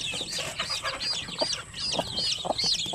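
Young chicks, some with drooping wings, chirp in rapid, repeated high peeps close by, with soft clucking and shuffling underneath in a quiet indoor space.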